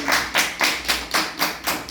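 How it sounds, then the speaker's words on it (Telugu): Loud, close claps strike in an even rhythm, about eight sharp bursts in under two seconds, with no talking between them. "ఒకసారి గట్టిగా చప్పట్లు కొట్టండి"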